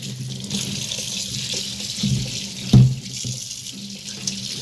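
Small watermelon washed under a running tap, a steady hiss of flowing water with soft splashes and one brief louder splash as the fruit shifts under the stream.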